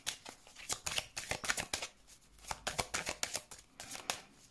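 Tarot cards shuffled by hand in a steady run of crisp riffling bursts, close and fairly loud, with no talking.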